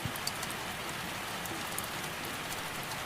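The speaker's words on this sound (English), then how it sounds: "The rain has settled into an absolutely steady rhythm now, neither increasing nor decreasing, but maintaining a constant gentle downpour that you can hear drumming on the roof" Steady, gentle rain drums on a roof in a constant, even hiss with soft scattered drop ticks, neither swelling nor fading, heard alone with no voices.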